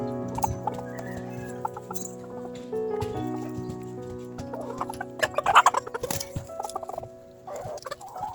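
Silkie chickens cluck and murmur close by while waiting for feed, with layered overlapping calls, a few sharper squawks and scattered bumps and rustles as activity picks up.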